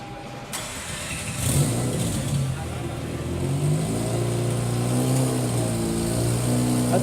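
A 2004 Mazda RX-8 rotary engine cranks and catches, then settles into a deep, steady rumble with rising revs, loud and close.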